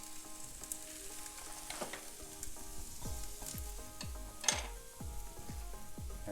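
Cheese for a Philly cheesesteak casserole browns and sizzles on the bottom of a hot skillet with a continuous close crackle, punctuated by scraping and clinks of a utensil against the pan.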